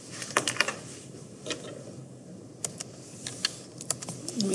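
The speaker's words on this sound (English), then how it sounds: "So I'm going to type this in here." Typing on a computer keyboard while working an algebra problem: scattered soft key clicks in small irregular clusters, close and fairly quiet over a faint steady hiss.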